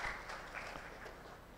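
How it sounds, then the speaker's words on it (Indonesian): Faint applause from a church congregation, a soft wash of clapping that fades out over a second and a half. "Berikan tepuk tangan untuk Tuhan kita."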